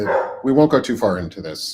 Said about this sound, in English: my dogs are barking in the background